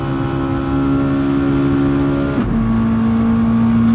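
A race car in a GT driver career racing video game holds a loud, steady, high-revving engine note, then shifts gear with a brief dip partway through and carries on at a lower pitch.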